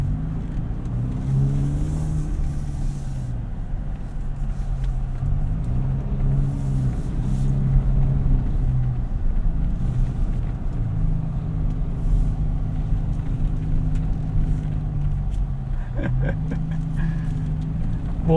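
A 2025 Toyota 4Runner TRD Pro drives off-road with traction control off, its engine a steady, close, loud drone that swells slightly in places over a continuous low rumble.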